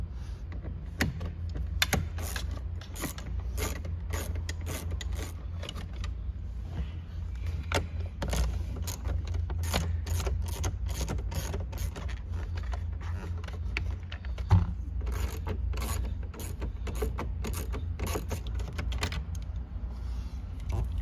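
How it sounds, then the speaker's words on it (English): Interior console trim panels are pried and pulled out of a 2005-2009 Ford Mustang, giving a steady series of sharp plastic clicks, snaps and rattles close by over a low constant hum, with no talking. "You also have to pull these panels out. No big deal. Pull that one out."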